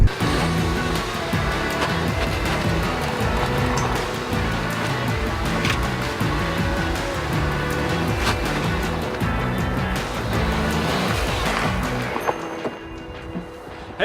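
A 2014 Nissan Versa Note driven hard gives a dense, continuous roar of engine and road noise at full loudness for the whole stretch. It eases off slightly near the end, and no one speaks.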